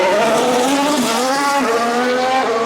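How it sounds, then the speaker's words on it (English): Formula 1 racing car at the Australian Grand Prix, a loud high-pitched engine whine rising and falling as it passes close along the track, filling the whole clip without talk. "let's see what happens as Hamilton comes around to start this next lap"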